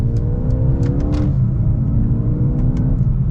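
Mercedes-AMG A35 engine revving under partial throttle, rising in pitch through quick gear shifts with brief drops between pulls, loud and steady with a continuous low rumble.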